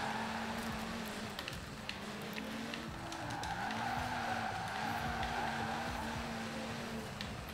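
Tires squeal in long, wavering skids as a car drifts in circles in Forza Horizon 4, the engine droning steadily underneath at close range with no talk.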